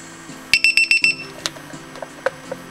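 A LiPo cell checker sounds its low-voltage alarm as a quick run of about six sharp, high beeps at close range, followed by a few scattered clicks and taps.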